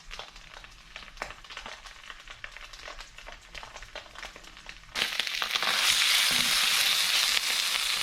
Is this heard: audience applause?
no